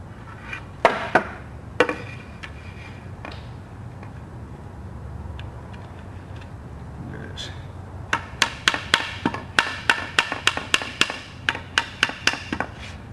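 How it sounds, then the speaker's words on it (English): Rubber mallet knocking tight-fitting wooden sandbox parts together, a few sharp thuds early on, then a quick run of repeated blows near the end. "they're tight enough that I have to use a rubber mallet to even hammer them in"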